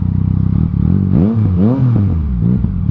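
A Yamaha Tracer 900 motorcycle with an Akrapovic full exhaust system revs up and down with a deep, throaty exhaust note, rising in pitch then settling back, loud and close.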